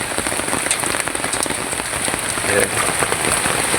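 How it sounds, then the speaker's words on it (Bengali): Heavy rain pours onto a rural wetland during the rainy season, a dense, steady, close patter of drops on water and surfaces with no voices. "আজকে সকাল থেকে বৃষ্টি নামতে আছে ভারী বৃষ্টি হয়েছে কিছুক্ষণ আগে আর একটু কমছে"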